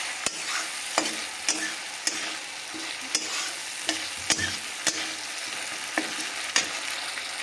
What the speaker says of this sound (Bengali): এই বাটা মশলাটা এতে দিয়ে দিলাম, দিয়ে একটু মশলাটাকে খুব ভালো করে কষিয়ে নেব